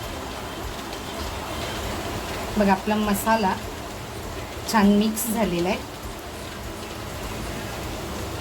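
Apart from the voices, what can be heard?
heavy rain falling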